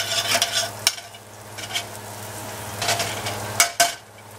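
Garlic and bacon sizzle steadily in a pan of butter, olive oil and bacon grease, a loud, close frying hiss broken by a few scraping stirs of a utensil.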